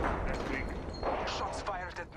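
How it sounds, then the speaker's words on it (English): Muffled, distant gunshots in Apex Legends pop and rumble through a busy game mix, a fairly quiet run of overlapping reports with no clear single crack. "Shots fired at me."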